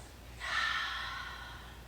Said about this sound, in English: Inhale deeply, exhale out of your mouth